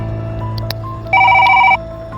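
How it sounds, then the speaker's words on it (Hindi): An electronic telephone ring chimes in a steady burst of repeated tones over a low background hum, clear and close. "सर फोन आ रहा है किसी का"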